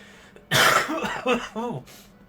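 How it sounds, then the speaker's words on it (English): A single harsh cough bursts out up close, followed by a few short, throaty vocal sounds from the same person. "That's that cough coming back."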